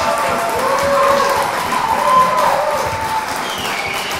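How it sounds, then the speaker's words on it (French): An audience applauds volunteers at a community gathering, steady clapping filling the room for several seconds with some crowd noise mixed in. "Une main d'applaudissement pour tous ces bénévoles-là,"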